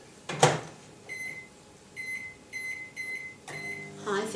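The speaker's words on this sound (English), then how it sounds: "Let's pop that in the microwave." A microwave oven set on high to melt a chunk of soap base gives a series of short, evenly spaced electronic beeps, followed by a low steady hum as it starts running, with a thump before and no talking.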